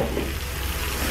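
Chunks of bottle gourd fry in cooked spice masala over medium heat, making a dense, continuous sizzle that stays loud and even throughout the short stretch, with no voices.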